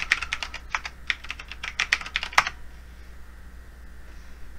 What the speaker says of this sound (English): And I'm going to type in his new password.